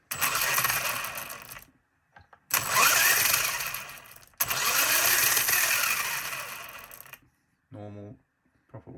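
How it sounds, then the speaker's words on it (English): An RC car's electric motor revs up and winds down in several long throttle bursts after its electronic speed controller is calibrated, giving a rising and falling whine with brief quiet gaps and a short burst near the end. "normal, proper working throttle response"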